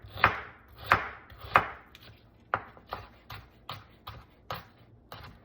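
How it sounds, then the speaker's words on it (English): A knife slicing onions very thin into half-moons on a board, a steady run of about a dozen crisp chops, the first few loudest, close and alone. "And I'm going to continue cutting the onions"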